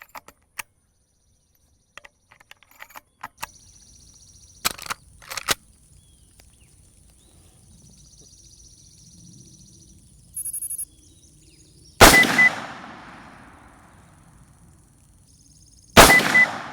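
Rifle shots fired downrange at a target while zeroing a ZEISS Conquest V4 riflescope at maximum magnification, two sharp loud reports spaced about four seconds apart, each trailing off in a short echo, with faint clicks and handling noise before them.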